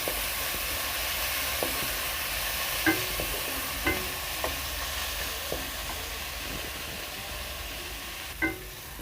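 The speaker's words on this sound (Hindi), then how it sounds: "इसको अच्छे से चलाते रहेंगे थोड़ी देर तक, ताकि प्याज ब्राउन हो जाए" Onions are stirred and fried until brown for an aloo matar sabzi, with a steady sizzle under the repeated scrape and clack of a spoon against the pan, spaced every second or two.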